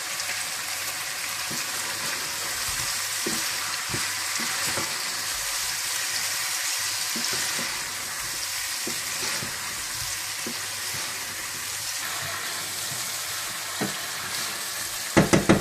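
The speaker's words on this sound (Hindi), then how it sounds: "खुश्क मिर्चों के बीज पिसे हुए वो डाल दें और नमक डाल दें और अच्छी तरह से भून लें" Ground dried chili seeds and salt fry in oil in a pan for a shahi chicken white korma, giving a steady close sizzle with occasional scraping stir clicks and a few sharp taps at the end.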